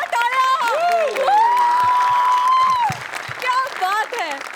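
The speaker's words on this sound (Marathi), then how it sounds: "जोरदार टाळ्या" Loud studio audience applause and cheering on a Marathi comedy show, with whoops rising over the clapping for several seconds before voices and laughter break back in.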